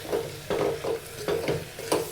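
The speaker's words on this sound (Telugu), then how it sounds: "ఇలా నూరి పెట్టుకున్న పుదీనా పేస్ట్ యాడ్ చేసుకొని కలుపుకోవాలి ఒకసారి." Mint paste being stirred through rice in a hot pan, with rhythmic scraping strokes roughly every half second over a faint background sizzle, close and steady, no voices.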